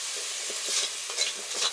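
Onions fry in oil in a pan, a bright steady sizzle up close with several scraping stirs spaced through it, no voices.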